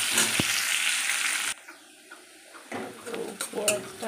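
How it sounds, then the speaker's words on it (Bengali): Onions frying in a pan for a home-cooked curry, a loud, steady sizzle for about a second and a half that suddenly drops away to quieter clatter and faint hissing. "পেঁয়াজটা দিয়েছি, এবার লাল লাল করে ভাজা হবে"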